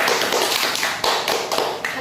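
Classroom applause for a student group that has just presented, a quick burst of close, dry hand claps with a few sharper accents, loud and without talk.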